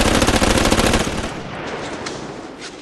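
A dense, loud burst of automatic gunfire rakes a hut in a film scene, rapid shots packed together for about a second before tapering into a ringing, fading tail.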